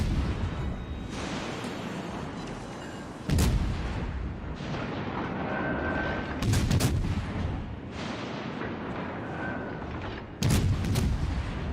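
Naval gunfire in World of Warships: Legends, heard as loud booming salvos about three times over a steady rumbling battle background of engine and sea noise.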